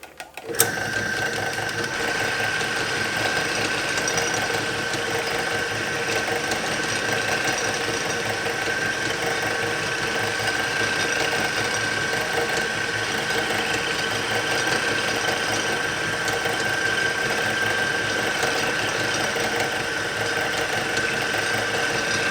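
A metal lathe faces and turns down a metal part for a tailstock repair, giving a loud, steady mechanical whir with a faint high whine that runs unbroken for over twenty seconds after a brief start-up.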